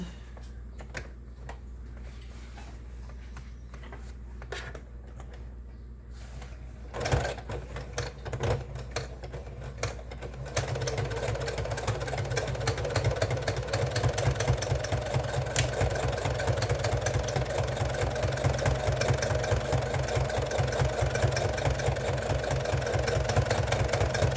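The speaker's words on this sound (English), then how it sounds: "And I'm going to top stitch right next to the fold." A sewing machine top stitches a jeans zipper, starting with a few slow, separate stitches and then settling into a steady, fast, close mechanical whir with a rapid stitching rhythm that continues to the end, with no talking.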